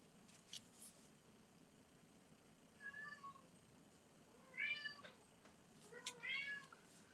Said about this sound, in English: There's that same cat who got his paw prints in my thing now hollering he wants to go outside.